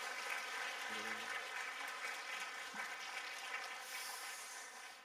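Steady clapping from a church congregation at a Wednesday evening service, moderately loud, continuing for several seconds with a voice faintly underneath.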